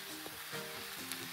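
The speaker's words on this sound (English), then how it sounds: "I'm gonna put my teriyaki sauce into it. I'm just gonna stir it up." Broccoli stir fry with teriyaki sauce sizzling in a pan, a short, steady hiss of frying, close and fairly soft, with faint stirring and no talk.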